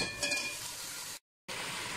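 Carrots frying in a pan with onions give a steady close sizzle, cut by a brief silent gap before the crackle resumes.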